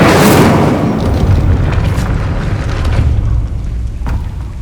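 An Incendio fire spell erupts in the video game Hogwarts Legacy, a loud booming blast at the start followed by a roaring, crackling rumble that slowly fades.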